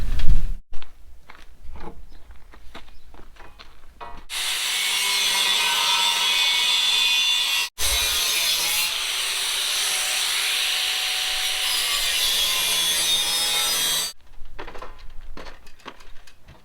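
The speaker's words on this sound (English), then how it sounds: "I'm going to have to cut a little bit of this off." A hand saw cuts off part of a wooden boat during a rebuild, rasping loudly in two long bursts of strokes with a short break between them and quiet shuffling before and after.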